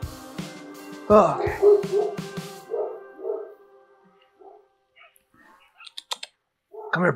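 A dog in Resident Evil 4 VR barks and yaps close by, mixed with clicking sounds, while a person talks over it in a friendly, coaxing tone.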